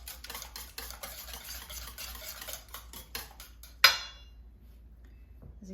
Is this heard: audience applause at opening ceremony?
no